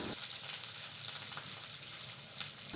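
Cumin and mustard seeds sizzle in hot oil in a kadhai with capsicum, giving a steady close frying hiss with a few faint crackles and pops and no talking.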